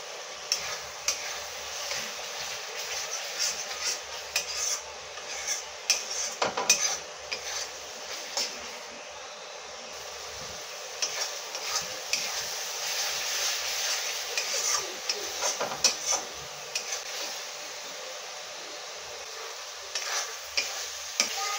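Ground mustard and poppy seed spice paste with green chilli is worked in a hot pan, with a spatula scraping and rubbing in steady strokes over a continuous sizzle, close and clear, without speech.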